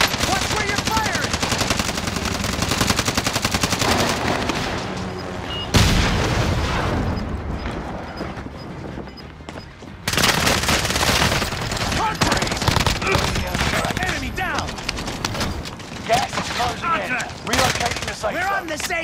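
Dense, loud gunfire in a Call of Duty match: sustained automatic bursts, sharp single shots and booming blasts that keep going almost without a break, with a brief quieter lull and occasional voices underneath.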